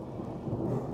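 Rain sets in with a low rumble of thunder outdoors along a fence line, a steady dense hiss and wash filling the whole moment without any voices.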